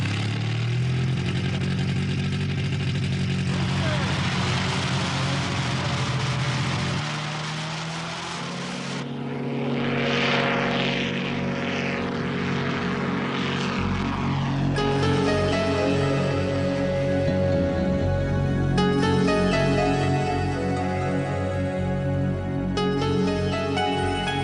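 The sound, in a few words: ultralight aircraft flying above the Himalayas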